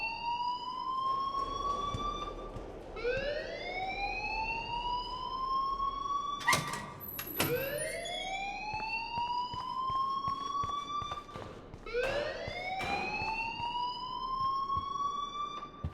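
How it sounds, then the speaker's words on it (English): A wailing fire alarm in the Life is Strange video game rises and falls in repeated sweeping cycles, steady and prominent with no talk over it. "please turn off that alarm since that's your job"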